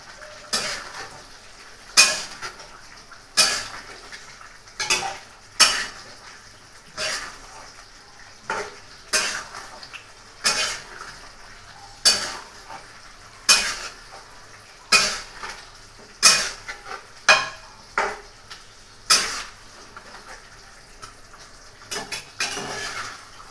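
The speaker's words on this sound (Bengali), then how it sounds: "এবার ভালোভাবে কষাবো।" Chicken kosha is stir-fried in a pan, with a spatula scraping and knocking against the metal in a steady rhythm of about twenty sharp strokes over a soft sizzle, close and with no talk.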